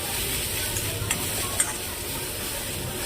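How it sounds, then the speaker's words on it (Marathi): Onion masala for a spring onion curry fries in oil in a pan, a steady close sizzle with a few soft scraping stirs of a spoon throughout, no talking. "तर आपला कांदा मसाला छान भाजून झालेला आहे"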